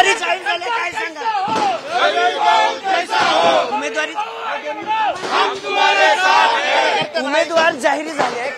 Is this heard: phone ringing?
no